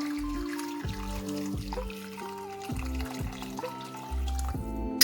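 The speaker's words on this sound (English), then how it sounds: "Then we need to fill our pot with water." Tap water runs steadily into a cooking pot for oxtail and dumplings, a continuous trickling fill with shifting tone as the level rises, close and fairly quiet.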